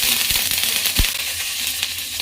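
Curry leaves hit hot oil with popped mustard seeds, giving a steady, close sizzle broken by a few sharp crackles and spits.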